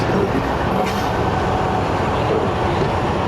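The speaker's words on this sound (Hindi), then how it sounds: "दोस्तों 107 अप इस्लामाबाद एक्सप्रेस सादोकी पर हुआ है ये क्रॉस" The 14DN Awam Express rumbles loudly past the 107 Up Islamabad Express at a looping crossing at Sadoki, a steady roar of wheels and rail noise with faint clatter and no speech.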